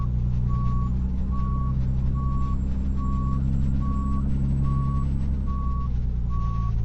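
Truck reversing alarm beeping steadily, evenly spaced tones repeating over a loud, constant engine drone.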